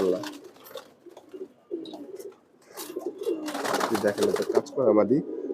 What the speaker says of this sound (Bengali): দেখেন আরেকটা কবুতর এটাও খুবই সুন্দর কবুতর